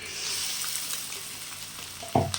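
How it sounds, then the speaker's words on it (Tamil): Tomato sauce poured into a frying pan of pasta, a steady sizzle and frying hiss throughout with a brief louder splash near the end, close up and without talk. "இப்போ வந்து நம்ம இந்த தக்காளி சாஸ் ஊற்றிக்கலாம்"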